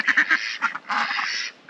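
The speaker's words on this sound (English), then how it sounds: "I do love runner ducks, but they are just scared of life." Runner ducks quack up close: a quick run of short, nasal calls, then a longer, drawn-out honking quack.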